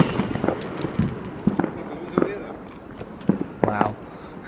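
Fireworks go off outdoors on bonfire night in a series of sharp bangs and crackling bursts at irregular intervals, with people talking nearby.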